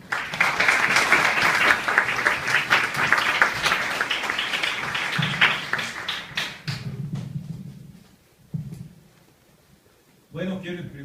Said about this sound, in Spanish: Recibimos a nuestro distinguido disertante con un fuerte aplauso